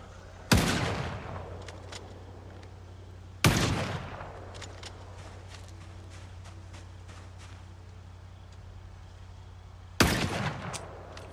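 Three loud, widely spaced gunshots from a firearm in the survival game Project Zomboid. Each crack rings out with a decaying echo over a steady low hum, and there is no talking.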